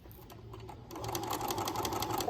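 A sewing machine stitches around a striped pillow in a steady, rapid mechanical whir with fast needle clicks. It grows slightly louder and busier after about a second, with no talking.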